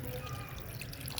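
Water poured into a pot of Nigerian stew for white rice, a steady low splashing wash with faint dripping, running continuously and close by.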